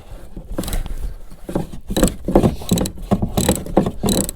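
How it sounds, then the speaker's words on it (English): Metallic clicking and ratcheting as a tool undoes the nut on the roof aerial base of a Fiat 500, with irregular close mechanical ticks over about four seconds. "it won't take much to get it undone, but you've got to get obviously on the nut"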